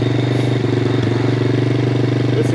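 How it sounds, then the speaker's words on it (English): A Honda Grom clone motorcycle with a baffled exhaust idles nearby, a loud, steady, rapid putter with an even pulse and a few light clatters, with no talking. "This exhaust does sound good though"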